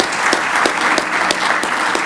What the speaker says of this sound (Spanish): un aplauso para los dos